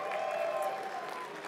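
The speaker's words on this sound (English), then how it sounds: "Another round of applause for Andrea." Audience applause at a champagne brunch honoring LGBTQ+ elected officials, a steady, moderately faint wash of clapping from a crowd lasting throughout.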